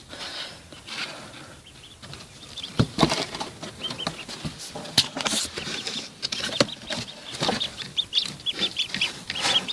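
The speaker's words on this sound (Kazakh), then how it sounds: "Үйректің балапандары." Newly hatched ducklings in a homemade incubator peep and cheep steadily close by, with soft scrabbling and patter of tiny feet and wings throughout, and no talking.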